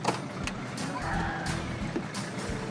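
Low, steady rumble of a car engine while driving, with a continuous road drone and a few brief clicks and thumps from inside the vehicle, and no talk.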